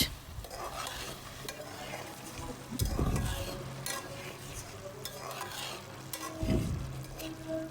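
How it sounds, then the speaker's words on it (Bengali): Pieces of rui fish and prawns fry in a pan for a bottle gourd curry, a quiet sizzle with two louder bursts of stirring and scraping. "এর মধ্যে অ্যাড করে দিচ্ছি কয়েকটি চিংড়ি মাছ"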